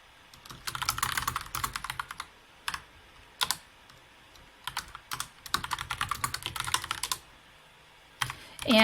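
Bursts of quick typing on a computer keyboard, crisp close key taps in uneven clusters with short pauses between them, no voices.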